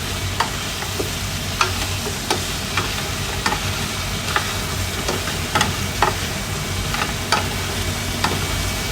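Ingredients for kare kare sauté in a pan, giving a steady sizzle broken by regular scraping stirs, close and fairly loud with no talk.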